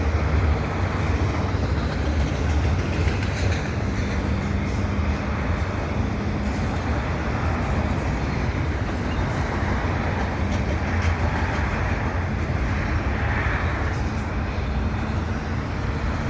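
CP and CN freight trains with double stacks and auto racks rumble continuously beneath rail bridges at Des Sources, a loud, steady, broadband roar lasting the whole stretch without talk.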